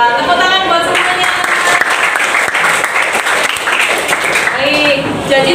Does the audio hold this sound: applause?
yes